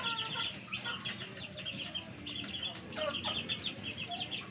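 Sweater x Gilmore gamefowl, yellow-legged roosters, cluck and chirp in short repeated bursts, near and moderately loud, with a few quieter calls in the background.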